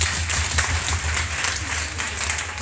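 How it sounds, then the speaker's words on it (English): An audience at a school environmental awareness event in Oguta, Imo State, Nigeria, applauds a student: steady, dense clapping that fills the whole moment, with a low hum beneath it. "Clap for her, please."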